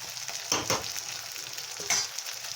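Peas fry in a pan with a soft sizzle while a spatula stirs them in two short scraping bursts, close and moderately quiet.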